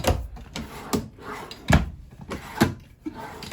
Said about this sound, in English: And then you get your drawer space here.